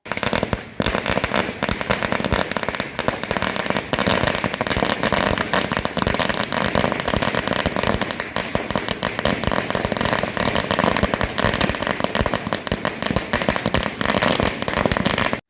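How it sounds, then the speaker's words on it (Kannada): Firecrackers set off by supporters at a celebration burst in a rapid, continuous string of loud cracks and pops, dense and unbroken from start to finish with an engine faintly underneath. "ಬೆಂಬಲಿಗರು ಪಟಾಕಿ ಸಿಡಿಸಿ ಸಂಭ್ರಮಾಚರಣೆ ಆಚರಿಸಿದ್ರು"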